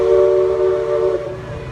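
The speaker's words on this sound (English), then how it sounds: "the steam trains, the railroad here" A steam train on a theme park railroad beside a riverfront attraction sounds a sustained, loud, steady whistle tone that holds for over a second, then fades slightly against a continuous rumbling background.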